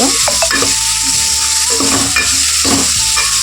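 Paste of black pepper, garlic and cumin frying in a hot pan, a loud continuous sizzle broken by repeated scraping and stirring strokes of a utensil against the pan, with no talking.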